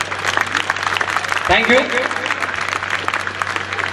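Audience applause at a wellness company event in India: a dense, even stream of many hands clapping that continues throughout, with someone briefly speaking over it partway through.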